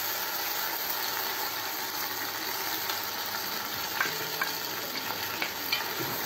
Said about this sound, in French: je vais frire un petit peu ça